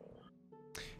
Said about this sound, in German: Ja, Frosch lassen wir jetzt einfach stehen, würde ich sagen.